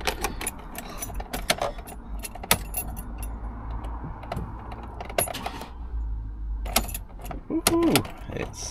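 Keys jangle in several short metallic bursts, close and fairly loud, while someone tries to start a new van with a clicking starting fault, with a faint vehicle hum and soft clicks underneath.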